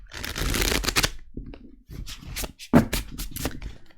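Tarot cards, a Moonchild Tarot deck, are shuffled by hand in a dense riffling burst, followed by a series of separate, sharper card flicks and slaps, close and fairly loud with no talk.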